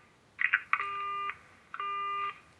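Telephone hang-up tone: two steady electronic beeps, each about half a second, sounding alone at low level after a brief initial chirp.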